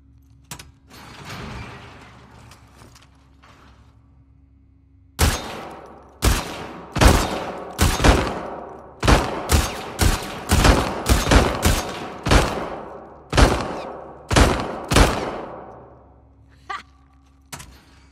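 Pistol gunfire at a shooting range in The Last of Us Part II, about a dozen loud, sharp single shots fired in a fairly steady rhythm after a quieter stretch of handling noise, with brief mechanical clicks at the end.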